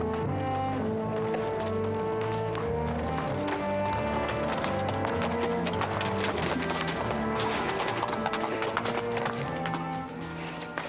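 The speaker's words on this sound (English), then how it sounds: "Better take it easy on the horses." Rapid horse hoofbeats clatter steadily under a busy blend of music and background sound, the rhythm quick and continuous throughout.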